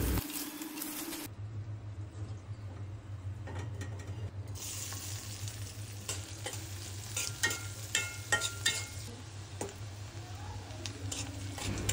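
Small pieces of hilsa fish fry in a pan with a continuous crackling sizzle, plus occasional soft stirring and spattering, close up, with no talk.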